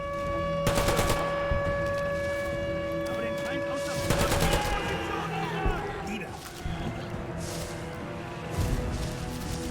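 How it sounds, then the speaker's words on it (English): Gunfire in the War Mongrels WW2 real-time stealth tactics game, loud repeated shots in short bursts over a continuous game soundscape, with a voice talking over part of it. "I will keep shooting them."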